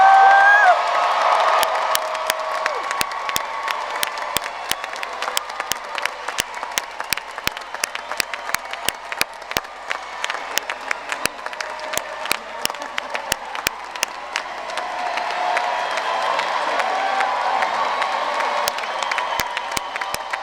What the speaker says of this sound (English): Can we have a cheer for the Albright College class of 2019?